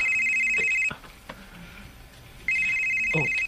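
A phone rings with an incoming call, loud and close, in an electronic trill that sounds once, falls silent for about a second and a half, then sounds again.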